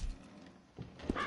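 A horse in Red Dead Redemption 2 gives a brief snort and a couple of soft hoof sounds near a stable, close and fairly quiet over a low outdoor ambience.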